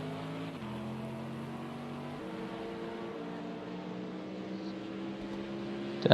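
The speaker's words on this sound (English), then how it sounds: "Do like that AMG rumble" A Mercedes-AMG race car in Project Cars 2 gives a steady, droning engine rumble at close range, its pitch stepping down through gear changes and holding even, with a burst of noise at the very end.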